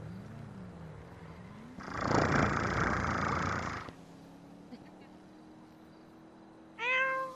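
Cat in a video game, first a loud purring burst in the middle, then a short harmonic meow near the end, fairly close, with a low steady hum beneath.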